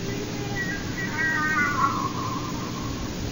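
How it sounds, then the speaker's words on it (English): A cat screeching and crying in a drawn-out, wavering wail that rises and falls over steady background hiss, heard clearly and alone. "Oh, it's this Kitty. She's been acting funny ever since I got home. Screeching and crying."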